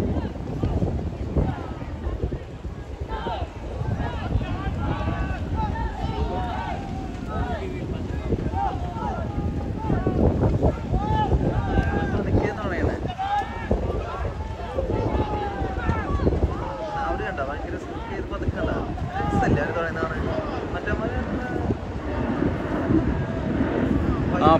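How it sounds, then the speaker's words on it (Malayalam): A Kerala-style snake boat race on water in Dubai: a busy, steady din of crowd noise and rhythmic voices over open water, with people talking throughout. "അപ്പോൾ ഇതാ നമ്മളെ വള്ളംകളി ഇതാ ഇവിടെ സ്റ്റാർട്ട് ചെയ്തിട്ടുണ്ട്"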